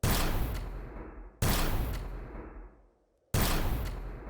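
Gunfire in the video game Empyrion Galactic Survival, Alpha 11.5: three separate loud, sharp shots, each followed by a long fading echo, with no talk.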